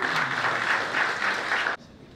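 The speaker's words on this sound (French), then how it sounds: "On peut l'applaudir très très fort." At an awards ceremony in Côte d'Ivoire, an audience gives a winner hearty applause, steady massed clapping that cuts off abruptly near the end, leaving quiet room tone.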